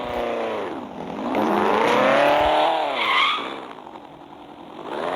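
Engine of a car in an extreme driving video game, revving with gliding pitch sweeps and a long tire skid, loud and continuous with no talk.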